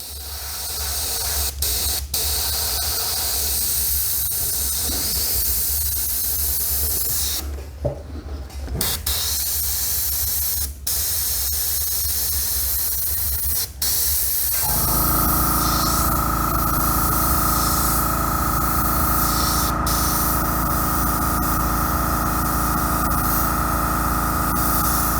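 Airbrush gun spraying thin lines of paint, a steady close hiss running alone throughout, with brief pauses and a louder, fuller spray burst in the second half.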